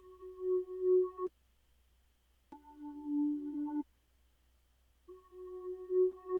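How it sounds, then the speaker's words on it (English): A reversed synth pad from Analog Lab 5 plays chords backwards, each swelling in and cutting off abruptly, three pulsing phrases separated by short silences, clear and alone. "It's the same chords but reversed, so it has this kind of like pulsing effect to it."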